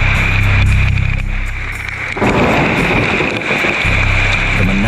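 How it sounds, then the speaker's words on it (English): Heavy storm rain pounds down steadily at a riverside fishing spot, a dense, loud wash of noise with low rumbling that swells and shifts throughout, with no voices. "The monotonous rhythm of pounding rain is suddenly broken."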